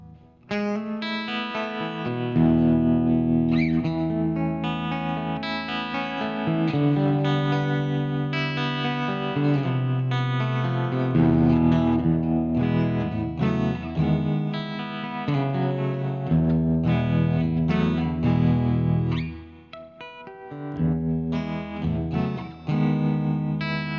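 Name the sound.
guitar amp tremolo effect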